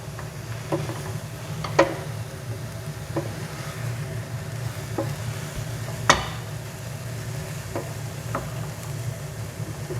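Onions and garlic soften in a pan for mushroom risotto, giving a low, steady sizzle throughout, with a few sharp clicks and scrapes from a spoon stirring at irregular moments.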